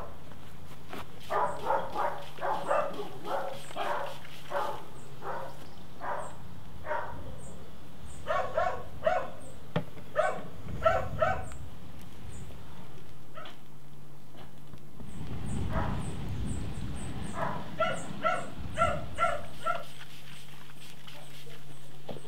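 Several dogs bark in short bursts over a steady low hum, with a pause midway before another run of barks; moderately close.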